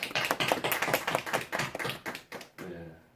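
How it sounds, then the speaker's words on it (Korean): Congregation clapping in a church year-end service, a run of distinct claps at a fairly quick, slightly uneven rhythm, moderately close, fading out near the end. "우리 박수 한번 하겠습니다."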